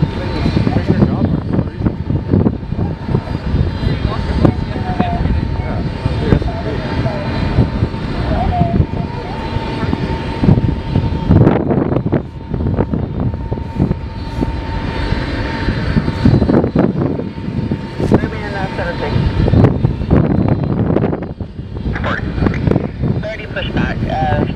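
The engines of an Antonov An-225 Mriya run at Toronto Pearson Airport, a loud, constant drone that fills the whole stretch, with voices talking over it.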